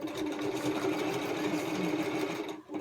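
A sewing machine runs a seam on a fabric ear pressure band in one steady, close, continuous whir that stops abruptly near the end.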